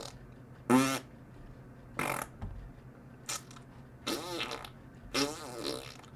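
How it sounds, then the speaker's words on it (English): Short, loud farting sound effects, about five separate bursts of varying length spaced a second or so apart against a quiet background with no talking. "More fart sound effect."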